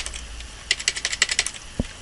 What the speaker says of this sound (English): I don't know if you can hear me hitting the keyboard.